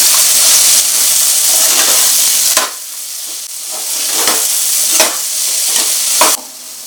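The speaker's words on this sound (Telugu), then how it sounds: "మిల్ మేకర్ వేసాక ఒకసారి కలుపుకోవాలి." Soya chunks (meal maker) stirred in a frying pan, a strong broadband sizzle that drops after a few seconds, with repeated scraping strokes of the spoon against the pan and no voices.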